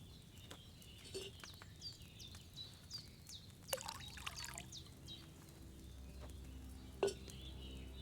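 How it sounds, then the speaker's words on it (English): Wine poured from a pitcher into a cauldron in the Kingdom Come Deliverance 2 video game, a brief, quiet liquid splash and trickle midway amid faint ambient clinks and bird-like chirps. "First, you have to pour the right base into the cauldron."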